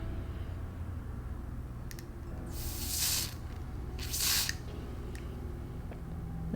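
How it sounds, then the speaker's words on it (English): Two short hissing bursts from a spray bottle onto a blonde wig, a second or so apart, over a soft background rumble with a few faint clicks of the trigger. "And now start spraying her down."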